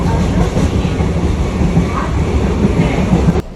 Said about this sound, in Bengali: সো এই হচ্ছে গেদে থেকে লোকাল ট্রেন